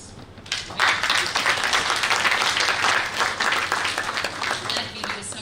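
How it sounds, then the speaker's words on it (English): Applause from an audience at a Planetary Liberation Day 2021 event, a sustained, steady wash of many hands clapping that rises quickly and continues evenly throughout. "I think that deserves an applause."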